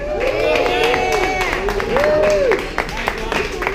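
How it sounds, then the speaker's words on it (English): A small group claps and cheers for a friend who has just finished his very first ride, a brief burst of applause with lively voices talking and calling out over it. "Round of applause, please."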